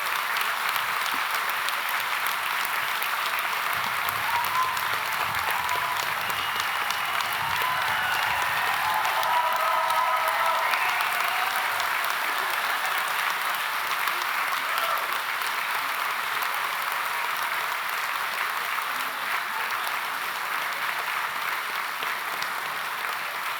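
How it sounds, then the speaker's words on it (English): A large graduation ceremony audience applauds continuously after the presentation of students, a dense, even wash of clapping that holds steady at full strength for over twenty seconds. "That's a lot of applause"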